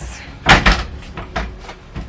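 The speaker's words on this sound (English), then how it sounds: "I can take the drawer out" A drawer slid and pushed shut into a cabinet in a van conversion, giving a few quick wooden knocks and thuds close by, with no talking.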